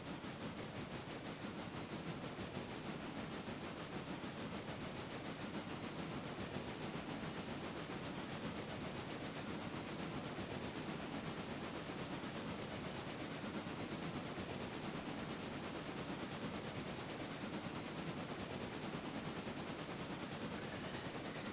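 A heavy train runs in the Railroader video game, a steady, unbroken rumbling hiss that holds at an even level for the whole stretch, with no voices over it.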